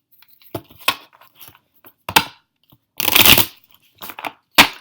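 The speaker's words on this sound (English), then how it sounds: "So I'm going to go ahead and shuffle." A tarot card deck is shuffled by hand in several loud, close bursts of riffling and rough papery crunching, separated by short silent gaps.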